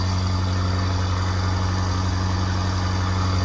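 A BMW M5 F90 with a 4.4-litre twin-turbo V8 and resonator delete idles steadily up close, a loud, even, low-pitched burble with a constant hum and no revving.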